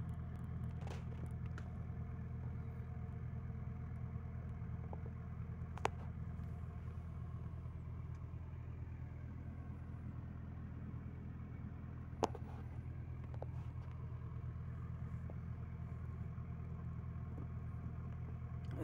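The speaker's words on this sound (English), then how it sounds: "It's so big traffic." A steady low rumble of car traffic crawling in a jam on Italy's A22 highway, heard from inside a vehicle, with a couple of sharp clicks and no voices.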